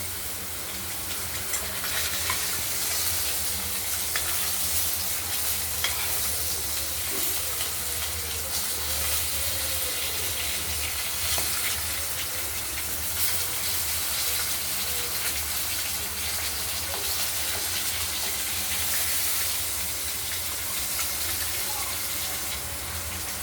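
Katla fish pieces frying in a pan make a soft, constant sizzle with a watery, hissing texture, steady and fairly quiet over the whole stretch, with no voices.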